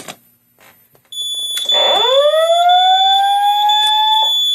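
Simplex fire alarm system triggered from a pull station: a loud electronic tone sweeps up and settles into a steady piercing wail, preceded by a click and faint handling noise.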